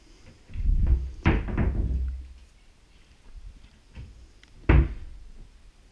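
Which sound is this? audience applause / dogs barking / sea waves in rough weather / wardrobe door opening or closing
wardrobe door opening or closing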